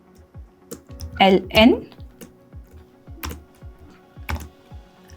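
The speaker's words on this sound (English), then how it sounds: "And now we will type here system.out.print" Quick clicks of fingers typing Java code on a computer keyboard, a run of light keystrokes under a brief bit of nearby speech.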